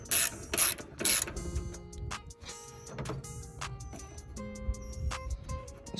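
A hand ratchet works loose a 10 mm bolt on a bracket of a Coyote Mustang GT, giving bursts of sharp metallic clicks in uneven runs, close and fairly loud, with a few pauses between turns.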